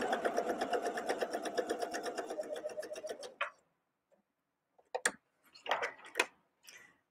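Sewing machine stitching the seams of a fanny pack, a rapid steady mechanical chatter for about three seconds that then stops, followed by a few isolated clicks and brief handling noises.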